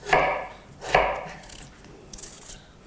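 Potatoes being chopped into cubes on a board for sautéed potatoes, two sharp knife thuds close by followed by fainter cuts and light scraping.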